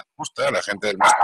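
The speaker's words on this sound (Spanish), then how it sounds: "eso es un perro, no eres tú," A dog barks in the background while someone talks over it in Spanish, the short sharp yelps partly masked by the continuous speech.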